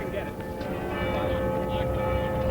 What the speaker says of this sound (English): And the bell's tolling now in downtown Dayton,